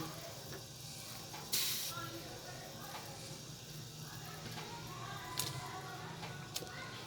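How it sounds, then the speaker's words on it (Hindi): Apple pieces go into hot, melted sugar syrup in a pan and start to simmer. A soft continuous bubbling runs under occasional sharper sizzling hisses, close by. "चीनी हमारी अच्छे से मेल्ट हो चुकी है और अब हम इन सेबों को शीरे में डाल देंगे।"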